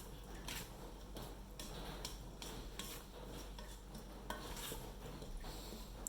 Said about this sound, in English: we'll just mix this thoroughly so that we introduce the bacteria to almost every bean as much as we can